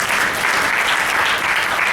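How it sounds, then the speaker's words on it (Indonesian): An audience at a leadership development session applauds, a dense, steady wash of many hands clapping at once, continuous and even for the whole stretch without speech. "tepuk tangan luar biasa ya teman-teman"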